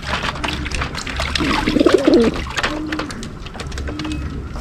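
Racing pigeons cooing close by in a loft, a few soft throaty coos repeating over a light background murmur.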